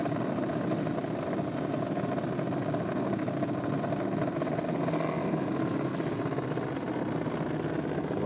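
Small-capacity drag racing motorcycle engines, 125cc to 300cc, drone in a steady mid-pitched hum at a championship drag strip, continuous and fairly distant with no talk.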